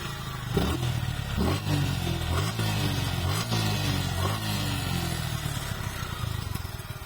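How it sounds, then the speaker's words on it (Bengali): A Suzuki Gixxer FI ABS 155cc motorcycle engine idles steadily up close, a smooth continuous rumble with slight throttle changes and no voices. "গাড়ির ইঞ্জিন সাউন্ডটা খুবই চমৎকার খুবই স্মুথলি একটা সাউন্ড"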